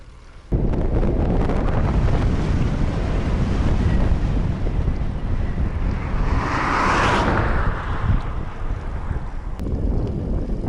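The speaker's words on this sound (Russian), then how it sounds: "Сегодня ветер такой боковой" Strong, steady side wind buffets the microphone in a constant low roar on a road in Mongolia, with a brief hissing gust swelling in the middle.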